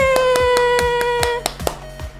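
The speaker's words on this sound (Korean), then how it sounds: "와, 박수!" Audience of young children and teachers at a church kindergarten Sunday-school class clapping hands: quick, evenly spaced claps, several per second, over a sustained musical tone, close and fairly loud.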